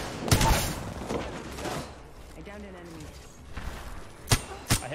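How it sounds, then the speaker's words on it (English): Video game gunfire: several sharp, loud gunshots crack in bursts at the start and two more near the end, separated by quieter stretches with a voice talking in the background. "I hit one out of seven shots."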